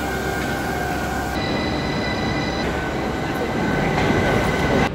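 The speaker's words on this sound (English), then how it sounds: "As you can hear, the train is very quiet." Steady rumbling rail noise heard from inside a moving train on the way into London, loud and continuous with faint high squeals and tonal whines shifting partway through, and no talking.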